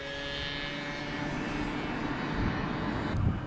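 Small scooter engine with a freshly leaned-out carburetor after an air filter change, running steadily at high revs with a droning buzz that swells slightly near the end, no voices.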